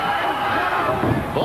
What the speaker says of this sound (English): Oh, the crowd coming alive.